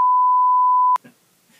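A single loud, pure electronic beep holds for about a second, then cuts off abruptly into faint background noise.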